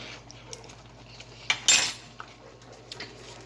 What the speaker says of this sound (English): And let me grab another spoon